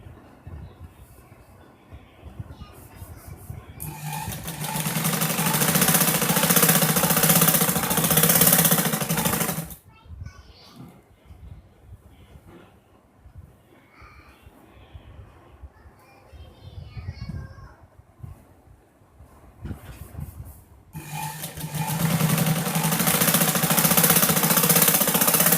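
A sewing machine stitches the bottom hem of a pair of pants in two loud, sustained runs, with quieter handling sounds and shuffling between them.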